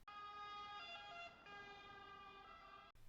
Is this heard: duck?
no